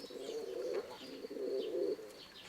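A domestic pigeon coos close by in two soft, rolling phrases, low and throaty, with a brief pause between them.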